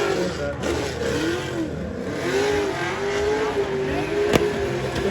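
A drift car engine, a 423–426 stroker, revs high with rising and falling tones over a distant crowd murmur at a drifting event, fairly far off with a sharp bang near the end.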